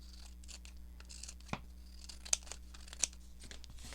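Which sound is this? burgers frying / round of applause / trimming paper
trimming paper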